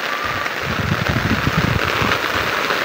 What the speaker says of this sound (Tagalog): Ayan na ang ulan. Yun, no? Yan guys, lakas na ng ulan.